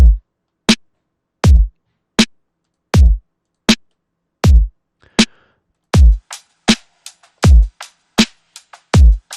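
A simple boom bap drum loop of punchy kicks and sharp snare hits in a steady pattern, loud and dry with short gaps between hits.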